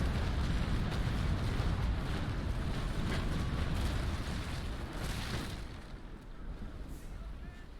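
Heavy booming broadside from ship cannons in the Naval Action game, a dense, sustained rumble of blasts that gradually eases off, with some voice mixed in.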